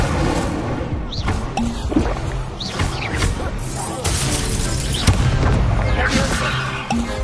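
A fire spell is cast in the Hogwarts Legacy video game amid a dense magical duel, with whooshing blasts, booming impacts and crashing bursts layered over constant game noise and shouted voices.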